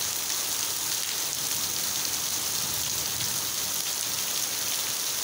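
Heavy rain pours steadily in a village, a dense, even hiss of drops on surfaces that stays loud and unbroken from start to end.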